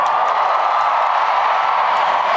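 A crowd cheers for the Queen as she appears on a palace balcony, a steady wash of distant voices and applause holding level and unbroken throughout.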